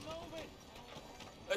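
Horse hooves in Red Dead Redemption 2, a rhythmic clip-clop of a ridden horse at a walk, fairly faint under game ambience and talk.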